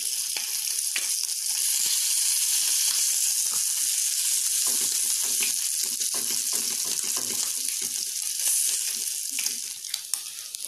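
Sliced bacon fries in olive oil in a pan, giving a loud, steady, crackling sizzle with scattered sharp pops that runs the whole time, easing slightly near the end.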